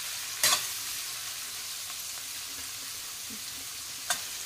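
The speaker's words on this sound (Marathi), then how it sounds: "त्यानंतर आपल्याला आपण बारीक चॉप केलेला कांदा टाकायचा आहे." Finely chopped onion frying in a pan for pav bhaji: a steady, close hiss of sizzling oil throughout, with a couple of brief scraping clinks of a utensil stirring.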